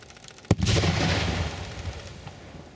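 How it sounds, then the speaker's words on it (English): Outdoor petrol fuel explosion set off for sound recording: one sharp loud bang followed by a broad roaring rumble that slowly decays over about two seconds. "Okay, petrol bang."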